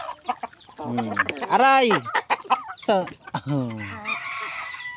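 Backyard chickens being fed their evening meal, with loud clucks and a drawn-out rooster-like call near the microphone, while a person talks over the birds.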